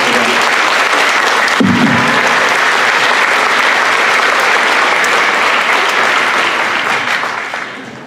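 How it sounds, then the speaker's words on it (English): Loud, sustained audience applause fills a school spring band concert at Harvey High School, steady dense clapping from a large crowd that carries on throughout and tapers slightly at the end. "So give them a round of applause for them."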